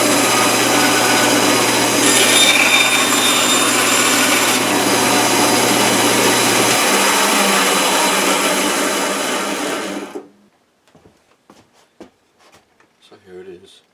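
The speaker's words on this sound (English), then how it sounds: "Here's a shot of the bandsaw from that last station that I screwed in." A bandsaw runs in a home workshop with a steady, loud motor hum and blade whir for about ten seconds. It then stops abruptly, and faint clicks and handling noises follow.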